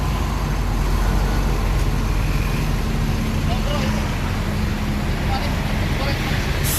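A Putra Remaja Jetbus 3 coach pulling in to pick up passengers: a steady, dense engine drone and road rumble, close and constant throughout, with no distinct peaks.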